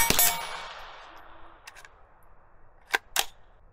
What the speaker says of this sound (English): So it was mostly the sound from it hitting the steel